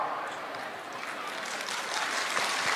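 Sustained applause from an audience at a Rahul Gandhi political rally speech on the caste census: dense, steady clapping that stays loud for the whole stretch and swells slightly toward the end.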